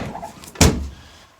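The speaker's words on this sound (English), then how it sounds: "When we look to shut in the door" The passenger door of an MGB GT classic car shuts with a single solid thunk midway through, loud and close, with quiet around it.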